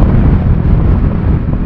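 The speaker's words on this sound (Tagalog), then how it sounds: "Ang lakas ng hangin dito." Loud, roaring wind buffets the microphone in a constant low rumble while riding a Bajaj Dominar 400 motorcycle, with no voices.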